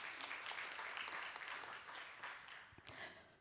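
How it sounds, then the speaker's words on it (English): Audience at a youth water panel applauding as a panelist is introduced, a steady crowd clapping that thins and fades toward the end, with a few sharper individual claps near the close. "Can we get a huge round of applause for her?"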